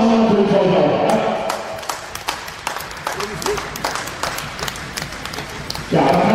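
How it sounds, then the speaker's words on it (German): Applause for a goalkeeper at a sports event, a burst of clapping from a crowd that fades out before talk resumes at the end. "Und Applaus für den Torhüter"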